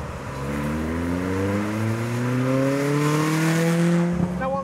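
A Caterham Monaco, the entry-model lightweight sports car based on the Road Sport, drives with its engine note rising steadily through a long pull before a brief lift and gear change near the end, loud and alone.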